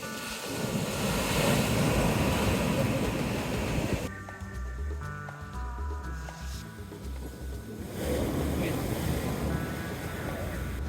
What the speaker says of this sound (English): I'm in awe and just a little terrified by the immense power that comes up with these waves